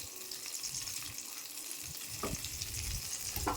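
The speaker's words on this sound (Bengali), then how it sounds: "এখন কাজু কিশমিশ বাদাম আর গরম মশলা দিয়ে সামান্য একটু ভেজে নিতে হবে।" Cashews, raisins, nuts and garam masala sizzle in hot ghee, a close, continuous frying crackle with scraping stir strokes and a few soft knocks near the end.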